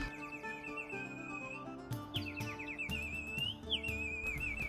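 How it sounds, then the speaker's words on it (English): A water-filled whistle warbles and trills in bright, bubbling bird-like runs over a steady soft background tone, played close and continuously with no talking. "This whistle that I'm playing with is something that I've wanted for a long time."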